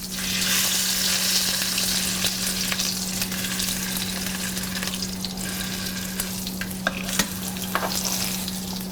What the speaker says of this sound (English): we'll sear the sides a little bit